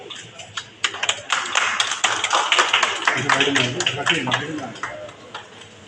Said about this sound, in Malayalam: ക്ലാപ്പ് ചെയ്യാം